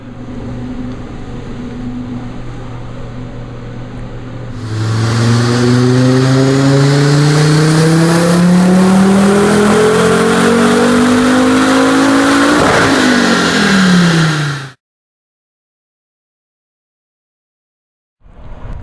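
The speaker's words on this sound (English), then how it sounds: "getting ready to go, waiting for Jason from PSI to get out here and let her rip" Volvo with an IPD Stage 3 4T4 turbo revving hard on a dyno: a steady idle, then a loud rising engine pull that climbs for about ten seconds with turbo whine before cutting off abruptly.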